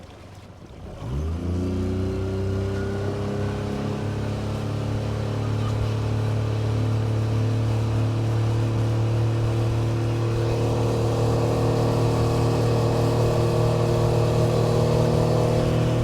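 A Suzuki DF25A 25-horsepower outboard motor on a small boat, throttled open from idle into a loud, steady full-throttle drone that climbs slightly in pitch as the boat gets up to speed and holds there.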